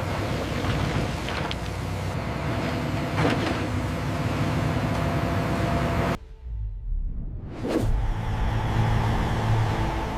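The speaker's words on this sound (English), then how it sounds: "This is the sound of production." Continuous loud industrial machinery roars and rumbles in a Coca-Cola factory, with a brief drop near the end before the heavy mechanical din resumes.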